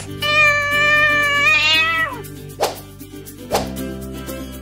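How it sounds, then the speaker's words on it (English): A single drawn-out cat meow, loud and close, followed by a couple of soft thumps over a low background beat. "Cat."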